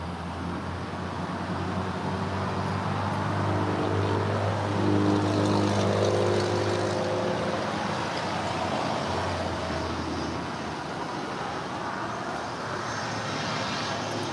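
A NetJets Bombardier Global 5000 business jet moves at LAX, a steady engine hum with a low droning tone that swells midway and then drops away, leaving a softer background rumble.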